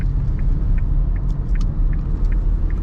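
A car engine hums steadily at low revs as the vehicle slowly gathers speed while pulling away at a roundabout, a continuous near rumble with no voices.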